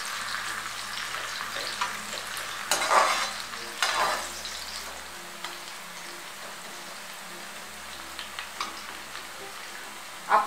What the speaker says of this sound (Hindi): और अच्छी तरह से इसे फ्राई करूंगी।